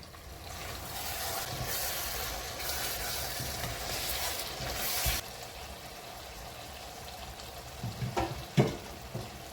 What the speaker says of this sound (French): Je vais maintenant ajouter le poulet.